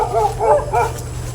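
Two small dogs bark in three quick, close, yapping bursts over a steady low background hum, then fall quiet.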